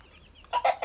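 A young Bielefelder hen gives a couple of short clucks close by after a moment of near silence.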